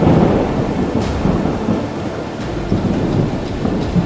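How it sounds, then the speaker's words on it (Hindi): A heavy hailstorm with thunder, a steady loud roar of falling hailstones and rain with low rumbling throughout, no voices. "बाहर जाकर देखा तो बड़े बड़े ओले गिर रहे थे।"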